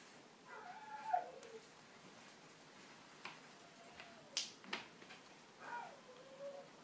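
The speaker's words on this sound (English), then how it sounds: "Dog's barking that she wants to come inside." A dog outside on a rainy day barks and whines to be let in, several short, muffled, fairly distant yelps spaced across a quiet indoor background.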